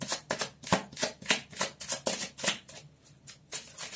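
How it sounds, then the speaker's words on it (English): Tarot cards are shuffled up close in quick riffling bursts, a rapid series of crisp flicking snaps with brief pauses. "I just love shuffling."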